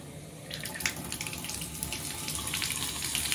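A bathtub faucet, leaking and in need of repair, is opened and water gushes steadily into the tub with a bright, hissing splash that grows a little stronger after the first half second and continues without a break.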